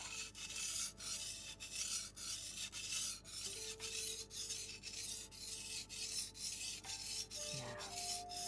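Knife sharpened on a whetstone, steady rhythmic gritty rasping strokes repeating about every half second, close and clear with no talking.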